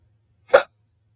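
A single sharp hiccup bursts out on its own against a quiet room, loud and brief, with nothing else heard.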